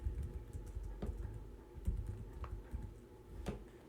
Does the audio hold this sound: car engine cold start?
no